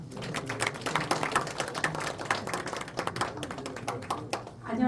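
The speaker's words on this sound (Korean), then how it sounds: "자, 여러분 박수 부탁드리겠습니다." Audience applause at a year-end forum gathering, dense crowd clapping filling the room steadily for several seconds before fading, with a voice emerging at the end.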